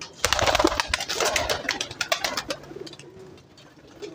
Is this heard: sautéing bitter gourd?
no